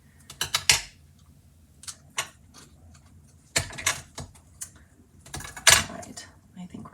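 A Stampin' Up! Snowy Delights paper card piece is trimmed with a series of sharp, quiet snips and clicks in small clusters, separated by near-silent pauses.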